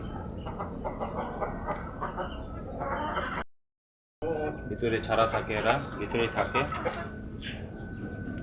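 Aseel rooster and hen cluck softly in the background while a person talks over them for most of the stretch, with a brief silent gap midway.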